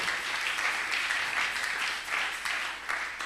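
Church congregation applauding together at a worship service, a dense, steady wash of many hands clapping at close range with gentle surges, no voices standing out.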